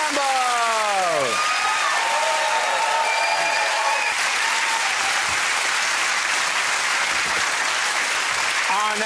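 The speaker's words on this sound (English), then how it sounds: "Give that round of applause for Ed Gamble" A studio audience at a comedy panel show breaks into a loud, sustained round of applause that fills the whole stretch, with a voice briefly talking over the start.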